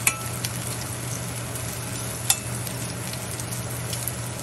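Sweet potato fries fry in a pan over medium heat, giving a steady, even sizzle under a low background hum, with a few sharp clinks of a utensil against the pan.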